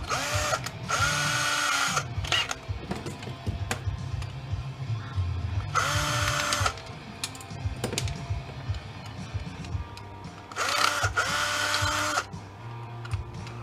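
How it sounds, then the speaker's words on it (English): A power drill whirs in three loud bursts as screws are backed out of an aluminum gate, with clicking, rattling metal handling and shifting between the bursts. "I'm gonna get these screws out anyways."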